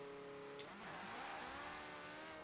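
Porsche 918 engine in Forza Horizon 4 revving hard through a quick 0 to 60 launch, a loud rising whine with a gear-change dip partway, heard alone without talk.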